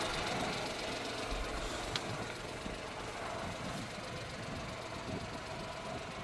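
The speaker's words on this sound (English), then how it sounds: "how smooth, it's running right now, how smooth the motor is and all." A Suzuki rock bed dump truck's motor idling smoothly, a steady low mechanical hum with an even, soft knock, faint and continuous with one brief tap partway through.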